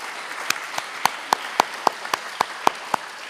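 Scattered applause from a church congregation at a Sunday water service, honouring ushers and greeters: about a dozen sharp, evenly spaced claps, steady and fairly close, with no talking.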